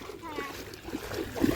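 Borewell water gushes and splashes onto a farm field in short bursts close by, with people talking over the flow.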